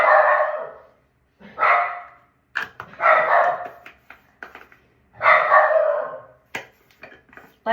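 Several dogs bark indoors in bursts, loud and close, three or four barking spells with short yips between them, as if reacting to someone in a hallway.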